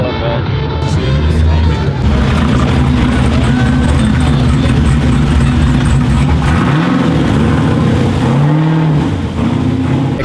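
A drift-spec Nissan 350Z with plexiglass doors rolls past, its engine a loud, steady low drone that swells and revs near the end, with no voices over it.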